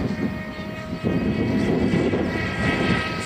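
An AXN Floater RC plane streaks past at speed, its steady propeller buzz loud and close throughout, swelling slightly as it passes overhead.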